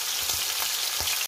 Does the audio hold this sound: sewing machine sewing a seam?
no